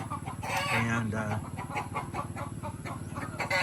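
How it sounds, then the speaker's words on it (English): Chickens cluck and squawk, with a rooster crowing, at a rural spot in Barotac Viejo, Iloilo, Philippines, under a steady engine-like drone, while someone talks over them. "That'll scare the chickens."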